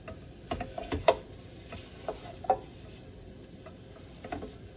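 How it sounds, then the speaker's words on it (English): Original pork sausage browning in a pan while a utensil breaks it up, with soft, steady frying under scattered scraping and tapping knocks at an uneven pace, fairly quiet and close. "we'll start by browning this and breaking it up"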